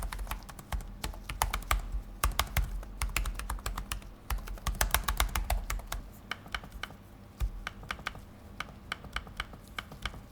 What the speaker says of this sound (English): Here's a sound test of the keyboard as well as the touchpad.